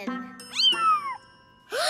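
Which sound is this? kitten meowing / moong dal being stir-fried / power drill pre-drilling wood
kitten meowing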